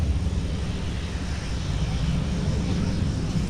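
A Sun Country Boeing 737-900ER departs runway 30 left, its jet engines a steady low rumble that fills the clip without pause, moderately loud and unbroken.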